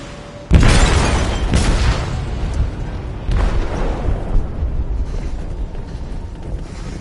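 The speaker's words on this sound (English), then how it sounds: "They detonated an explosive in the hold." An explosive detonating in a ship's hold in Detroit: Become Human: a sudden loud boom that rolls into a sustained rumbling roar, with a second surge of blast noise a few seconds later, no voices.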